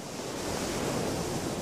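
Ocean waves wash onto a sandy shore as a sound effect in a children's story. The surf makes a continuous, fairly loud, breathy wash that swells gently through the middle, with no voices.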